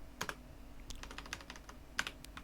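Keystrokes on a computer keyboard while Lua code is typed, a quick run of close, crisp clicks in uneven bursts with a louder pair of strikes near the end, no voices.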